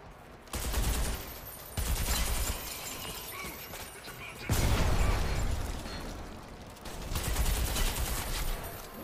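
Heavy gunfire in the game Deus Ex: Human Revolution, with loud bursts of shooting and explosive impacts arriving in several dense waves separated by brief lulls.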